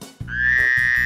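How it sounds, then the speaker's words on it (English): A single cartoon-style frog croak rings out clearly for about a second, a sustained tonal call with a bright upper harmonic and a low thud at its start, close and alone with no talking. "A frog makes a ribbit sound."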